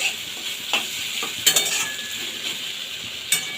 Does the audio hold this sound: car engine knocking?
no